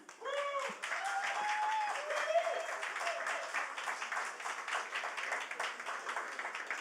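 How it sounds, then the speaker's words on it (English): Audience applause for a storyteller at a Talking Tales live reading event, a sustained round of clapping from a modest crowd, with a few cheering voices near the start. "Your hands together, please, for Mr. Christopher Fielden."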